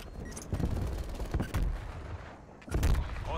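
Rapid gunfire rattles in Call of Duty: Black Ops Cold War during a Hardpoint multiplayer match, with several close, loud bursts separated by brief pauses.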